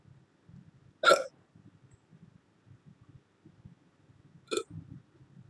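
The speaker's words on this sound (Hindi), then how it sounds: "अरे कौन हिचकी ले रहा है ये?" Two sharp, brief hiccups about three seconds apart cut through a quiet room during an online mathematical physics class, with faint low background rumble between them.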